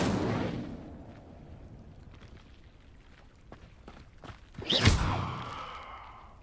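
A fire spell cast in the game Hogwarts Legacy: a soft whoosh fades early, then a sudden loud burst of flame flares near the end and trails off into a crackling roar.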